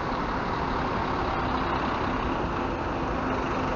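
An Expresso do Sul intercity bus on the São Paulo–Rio route rumbles past at night amid traffic, a steady, loud engine and road drone with no talk.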